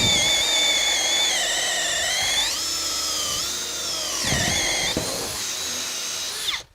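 A Makita XPH14 hammer drill running in drill mode at speed 2, a loud high whine that rises and dips in pitch as the bit bogs under load, running steadily before cutting off abruptly at the end.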